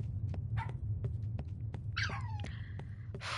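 In the horror game Pacify, a small dog whimpers and yelps with a sharp falling whine, set over a low throbbing hum and scattered clicks, fairly quiet overall.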